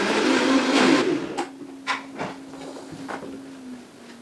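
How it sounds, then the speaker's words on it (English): A kitchen blender purees sliced strawberries, starting with a loud whirring burst that drops to a steady motor hum, broken by a few short knocks and pulses. "Now I'm going to puree those"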